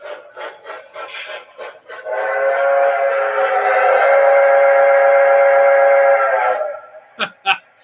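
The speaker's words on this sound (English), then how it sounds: "The whistle got stuck." A model train whistle, stuck blowing, sounds a steady, sustained tone for several seconds after some chugging clicks, then cuts off into a few sharp clicks.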